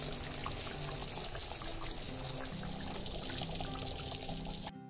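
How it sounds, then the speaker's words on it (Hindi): Water poured into a simmering gravy of peas and paneer, a steady pouring and bubbling wash that runs continuously and fairly loud before cutting off abruptly near the end. "पानी जो डाल रहे हो"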